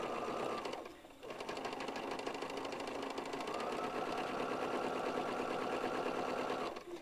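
A sewing machine runs steadily, stitching quilt pieces in a continuous rapid whirring chatter, briefly pausing near one second before resuming, close and alone without talk.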